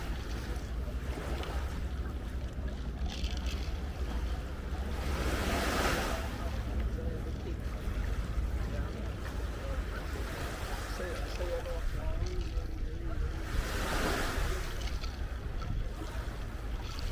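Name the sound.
ocean waves on a long beach at Jamaica resort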